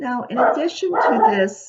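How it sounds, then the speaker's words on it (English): A dog barks in short, yelping bursts nearby while a person keeps talking over it. "sorry about that, that's my dog barking."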